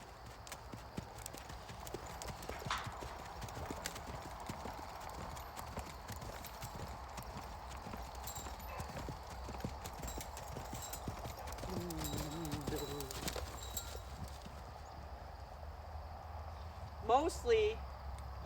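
Horse hooves clip-clopping at a canter during a riding session, a steady muffled rhythm over a constant outdoor background, with a brief snort or whinny near the end.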